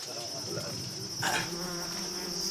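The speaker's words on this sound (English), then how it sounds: "A hive of African bees has been disturbed by the hunting party, and now they're starting to swarm" Constant high buzzing of a disturbed hive of African bees swarming in Africa, with a brief louder rush in the middle; no voices.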